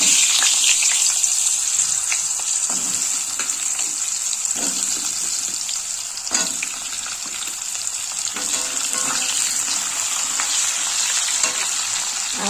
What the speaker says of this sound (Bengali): আলুগুলো ভেজে নেব